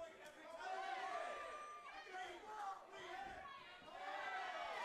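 Crowd yelling and chattering at a combat-sports fight night in Orlando, a steady dense roar of many voices with rising swells, close and loud throughout.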